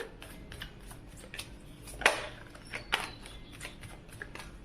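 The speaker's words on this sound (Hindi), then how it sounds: "चलिए हम इस साइड के लिए भी कार्ड्स लेते हैं" Tarot cards are drawn and shuffled close by, with soft riffling and sliding card sounds and a couple of sharper snaps as cards are laid down. No talking is heard.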